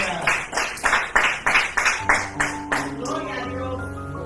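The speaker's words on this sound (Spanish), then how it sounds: "Dale un aplauso al Señor." A church congregation claps in praise to the Lord during a sermon, with steady rhythmic hand claps roughly twice a second over music-like tones, gradually fading.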